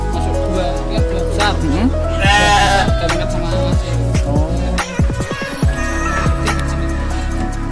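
Sheep bleat repeatedly nearby on a Boer goat and sheep farm, several overlapping calls over a busy farmyard background, with people talking in between.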